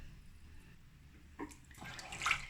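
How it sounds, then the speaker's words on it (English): Fresh water pours over soybeans in a container, a faint trickle that swells into a louder splashing stream near the end, with no talk. "I'm gonna pour some fresh water in there"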